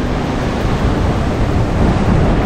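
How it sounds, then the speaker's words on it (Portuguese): Iguaçu Falls waterfall rushing beneath a walkway, a loud, steady broadband roar of falling water close below, continuous with no voices. "E aí, ó, é a parte da queda, passa por baixo da gente"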